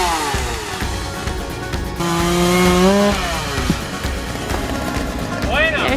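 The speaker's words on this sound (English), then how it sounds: "we don't want you guys by this when he's using the chainsaw" A chainsaw runs at a homestead farm while cutting a tree, with a droning engine whine that rises and swells midway and stays under people talking nearby.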